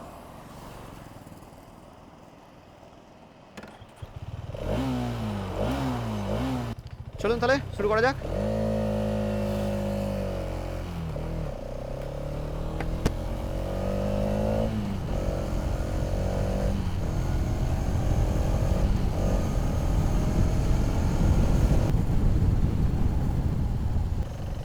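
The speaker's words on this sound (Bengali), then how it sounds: "অন করার পর বাইকটা আমি প্রথমে চলুন স্টার্ট দিই।" A Hero Xtreme 250R motorcycle cranks and fires up, then settles into a loud, close idle with revs rising and falling, someone talking briefly before it starts.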